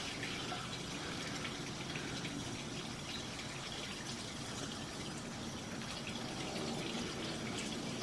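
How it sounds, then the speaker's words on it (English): Water runs from a garden hose in a steady, continuous gushing stream, even and unbroken, heard fairly close with a soft rushing hiss. "I'm going to run some water real quick so you can see how that water hits that lip"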